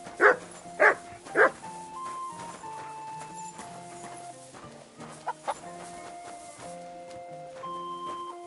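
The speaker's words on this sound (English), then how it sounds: "You silly doggy." Three sharp barks from a dog ring out at the start inside the medieval game world of Kingdom Come Deliverance 2, followed by a few fainter yips over background music.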